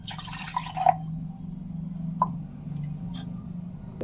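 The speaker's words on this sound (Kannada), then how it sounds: "ಇವಾಗ ಇದ್ರೊಳಗಡೆ ಸ್ವಲ್ಪ ನೀರು ಹಾಕ್ಕೊಳ್ಳೋಣ." Water added to a pani puri mixture, a few distinct drips and small splashes over a low background hum, close and fairly quiet.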